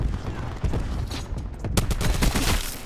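A Scythe minigun firing in Black Ops 4, rapid bursts of gunfire crackling in quick succession that build in density toward the end, with a voice faintly present underneath.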